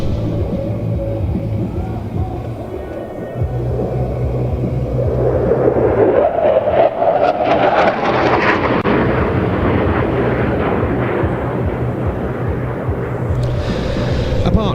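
A Dassault Rafale jet flies a topside display pass at an air show, a deep rumbling roar that swells and builds over several seconds while a commentator talks.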